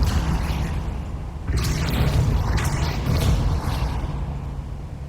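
Casting the Depulso spell in Hogwarts Legacy on PS5 brings a sudden whooshing blast with a rumbling, booming burst that swells midway and holds with heavy low-end over an ambient game background.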